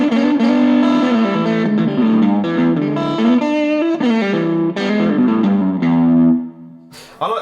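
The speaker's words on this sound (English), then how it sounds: "It's quite overdriven, quite fuzzy, but you've got a hollowness, a definition in there." A Revelation RJT-60 Jazzmaster electric guitar plays heavily overdriven, fuzzy chords and notes in a loud, close phrase that fades out near the end before a brief noise.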